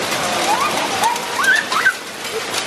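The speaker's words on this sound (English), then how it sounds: "It's hailing." Hail falling outdoors in Rome during a golf cart tour, a dense steady patter of hailstones with a few bird chirps heard over it.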